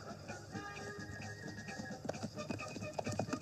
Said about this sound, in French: Les chevaux s'avancent lentement derrière la voiture.